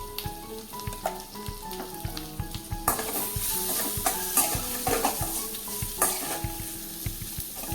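Red chilli, salt and spices for a farali fasting dish are stirred in a frying pan over a steady hiss of sizzling oil, with repeated close spoon scrapes and clinks throughout.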